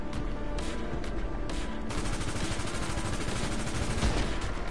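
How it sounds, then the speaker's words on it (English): Sniper gunfire rings out in a PS4 shooter game, with a couple of sharp cracks sitting in a dense, loud wash of battle noise and no voices. "I got sniped."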